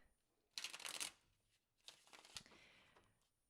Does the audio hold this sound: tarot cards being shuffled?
yes